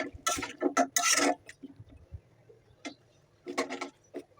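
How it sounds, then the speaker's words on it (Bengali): Pangas fish curry being sautéed and stirred in a pan, with bursts of scraping and clattering from the spatula against metal, separated by short pauses. "কষিয়ে নিচ্ছি ভালো করে"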